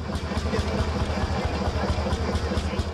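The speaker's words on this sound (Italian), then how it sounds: "I landini in sfilata hanno scandito il tempo con il rumore dei loro motori" Landini tractor engines rumbling at an outdoor festival parade in Italy, a steady low throbbing drone with pulsing mid-range chugging throughout, fairly close, with faint voices mixed in.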